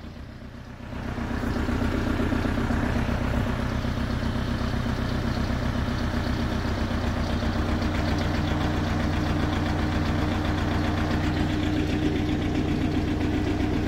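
Diesel engine of a Manitou MT 1435 telehandler starts up within the first second, then runs with a steady, loud, close idle and a low knocking throb, with no talk over it.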